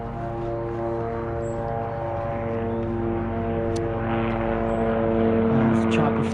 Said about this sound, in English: Oh, there's a chopper flying by.